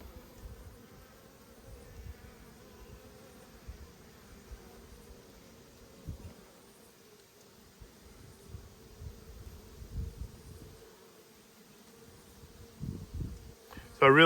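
Honey bees hum faintly around an Australian beekeeper working a nucleus hive without gloves, a low soft drone with occasional bumps and handling noises and a sharp sound at the very end.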